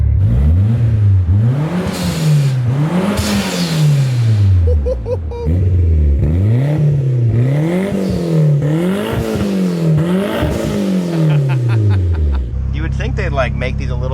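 A street-tuned Mitsubishi Evo 3 with a big turbo running on ethanol pulls hard from inside the car, its engine note climbing and dropping through several quick gear-change sweeps, loud and close, with a low rumble after the last pull.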